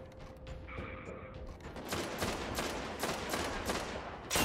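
Rapid automatic bursts ring out in Destiny during the Winter's Run Nightfall, a fast run of sharp repeated cracks that builds after a quieter mechanical lead-in and ends on a louder shot.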